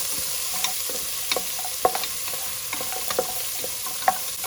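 Mutton legs frying in oil with a little turmeric in a pan, an even, close sizzle dotted with light clicks and scrapes of stirring, no talking.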